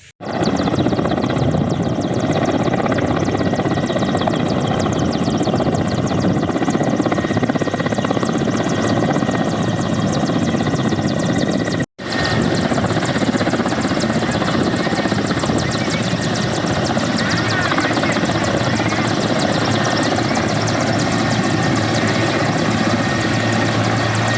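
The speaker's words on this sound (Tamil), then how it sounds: "ஹெலிகாப்டர்களை தரையிறக்கியும் சோதித்து பார்க்கப்படுகிறது" Loud, continuous helicopter rotor and engine roar as a helicopter makes a test landing on a helipad, close by and steady throughout, with a momentary cut midway.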